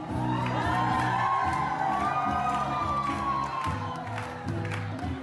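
A large crowd of people lining the walls claps and cheers for the passing governing body, a steady, loud wash of applause and shouts with voices mixed in, continuous from start to finish.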